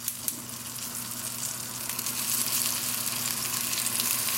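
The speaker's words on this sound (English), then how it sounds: "So we have some really hot butter and oil here. We're going to put this in here to sear" King oyster mushrooms searing in very hot butter and oil on a stovetop, a steady bright sizzle that builds slightly and runs alone throughout.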